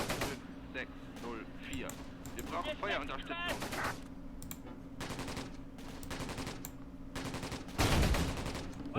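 Mortar blasts and rifle and machine-gun fire in the World War II tactics game Close Combat: Gateway to Caen, set in Normandy bocage, popping in repeated bursts with a heavier boom near the end, while someone talks over the battle.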